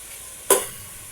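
Chicken being sautéed in a pan for arroz caldo gives one brief, sharp sizzling hiss that flares up and slowly fades, close by, with no talking.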